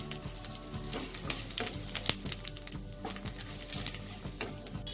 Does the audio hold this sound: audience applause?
no